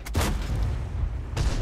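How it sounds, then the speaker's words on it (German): Tank cannon fire in the World of Tanks video game: two heavy booming blasts, one near the start and one near the end, over a loud continuous rumble of battle. "Er muss natürlich die schnellen Schüsse nehmen."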